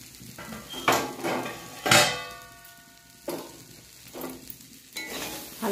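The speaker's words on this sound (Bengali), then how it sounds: "খুব বেশি ফ্রাই করবো না, হালকা ফ্রাই দরকার।" Curry lightly frying in a pan as a utensil stirs and scrapes, with several sharp metallic clangs and scrapes of the spoon against the pan over a low sizzle.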